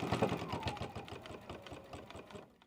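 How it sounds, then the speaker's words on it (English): A sewing machine runs a short straight stitch on scrunchie fabric, a quick steady mechanical chatter at close range that slows and stops after a few seconds. "we're going to step to our machine and we're just going to run a straight stitch"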